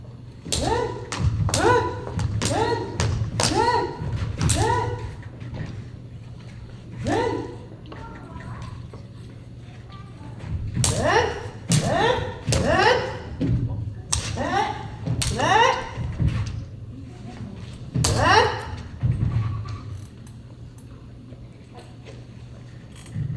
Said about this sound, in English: a warm-up in Bogu called Uchikaeshi, and that's a lot of attacks coming quickly